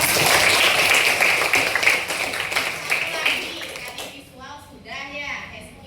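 Group applause for a participant named Rama at an Indonesian school counseling session, a broad wash of clapping that fades after a few seconds, with voices continuing beneath and after.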